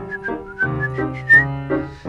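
A person whistles a tune, clear melodic notes in a bouncy rhythm over a soft accompaniment, close and prominent.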